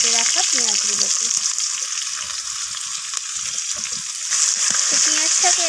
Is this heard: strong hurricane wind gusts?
no